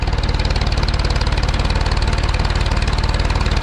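A tractor engine runs steadily during the unloading of a wagon of sweet corn silage, a loud close rhythmic chugging drone with rapid even pulses throughout.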